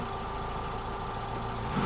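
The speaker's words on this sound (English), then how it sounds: "Going to show you the engine idling with the thing open." A steady, low van engine idles continuously at close range with the engine cover open, a smooth even rumble with no revving, oil pressure running low.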